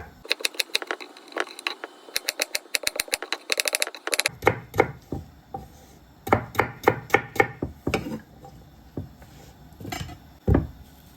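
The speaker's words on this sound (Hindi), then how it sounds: "दूसरे आलू को हमने पहले हाफ कर लेना है, उसके बाद छोटी छुरी लेनी है।" A small knife cuts halved potatoes on a board: a fast run of sharp chops, then slower, spaced knocks, close and crisp with no talk.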